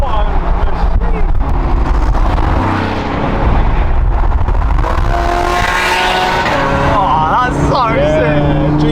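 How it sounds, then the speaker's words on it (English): A GT3 sports car on a road trip drives hard through a run of rising and falling engine notes with downshift blips, loud and continuous, with excited voices talking over it. "Oh, them downshifts! Oh, what a machine!"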